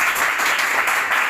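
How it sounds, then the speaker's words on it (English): Short burst of audience clapping as two speakers are called onto the stage at a conversation class event, dense and even throughout. "Have a big clap for him"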